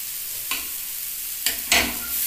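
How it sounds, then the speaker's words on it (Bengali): Potato filling for singara frying in oil in a pan, soft continuous sizzle broken by three distinct spatula stirs and scrapes, close and fairly loud. "ভালো করে তেলে কষিয়ে নিতে হবে।"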